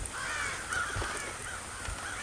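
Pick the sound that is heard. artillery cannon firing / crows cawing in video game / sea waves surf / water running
crows cawing in video game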